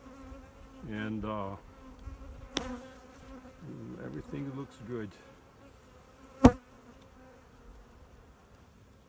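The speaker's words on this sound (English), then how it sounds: "on the box below I see even more bees, so the population is pretty healthy" Honey bees buzzing around an open hive during a spring inspection, a steady close drone with a few sharp knocks, while a person speaks briefly over it.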